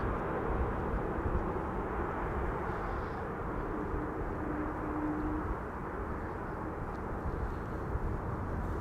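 A KLM Airbus A330-200 airliner arriving from Port of Spain rumbles as a broad, distant, steady roar that holds evenly throughout, fairly faint.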